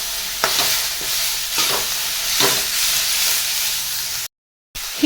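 Chopped tomatoes and coriander with stems roast in a pan for masala, giving a broad steady sizzling hiss broken by regular scraping stirs about once a second, with one brief cut to silence near the end.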